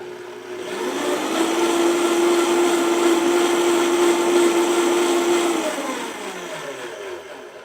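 A blender running with water whirs with a steady high-pitched motor drone that swells up, holds for several seconds, then winds down.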